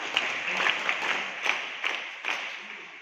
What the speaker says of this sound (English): with cheering applause